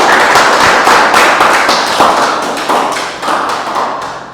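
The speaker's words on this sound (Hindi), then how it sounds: "जोरदार तालियां उनके लिए।" Students in an acting class applaud their classmates, a burst of loud, close hand claps with sharp individual hits that eases off slightly toward the end.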